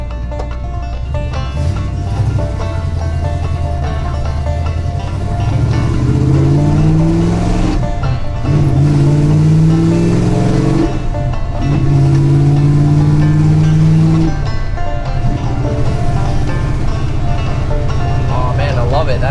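A 1969 Dodge Charger R/T V8 engine rumbles and revs repeatedly, its pitch climbing in surges and dropping back between them, with voices talking over the growl.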